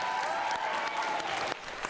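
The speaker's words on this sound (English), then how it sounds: "I would like you to give yourself a round of applause for what you've been doing so far." A group of schoolchildren in a school gym give themselves a round of applause, short and fairly quiet continuous clapping heard with a tonal hum and some background voices mixed in.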